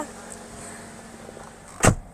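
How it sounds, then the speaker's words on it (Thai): A door of a 2014 Toyota Yaris 1.2 G closes with a single loud, close thump near the end of the clip, following a stretch of quiet interior hum. "ขออนุญาตปิดประตูนะคะ"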